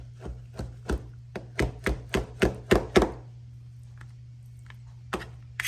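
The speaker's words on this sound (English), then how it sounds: "you can kind of chop it however you like" A knife chopping hard-boiled egg whites on a board: about ten firm, evenly spaced chops that grow slightly louder and faster, then a pause with a couple of faint taps, close up under a low steady hum.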